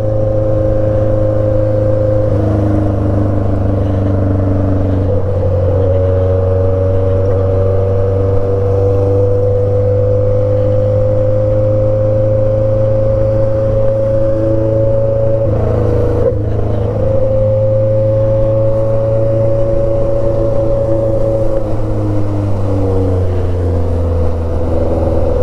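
A Yamaha XJ6 motorcycle engine with a stainless steel exhaust drones loudly and continuously, its pitch rising and falling gently as it revs, heard close up without any talking.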